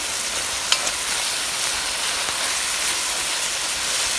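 Seasonings mixed into black bean soup in a Le Creuset 7.5 Signature pot, heard as a broad steady hiss with a couple of faint utensil knocks, close and even throughout, with no talking.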